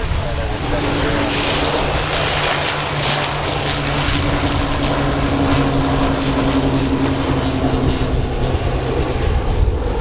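A Short 360 twin-turboprop cargo aircraft taxiing and departing at St. Kitts airport, a loud continuous propeller drone with a steady high whine and rumbling low end, air traffic radio chatter running underneath.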